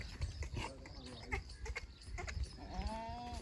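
Goats (bucks) just brought back from the market bleat several times, wavering calls up close amid shuffling and faint background voices.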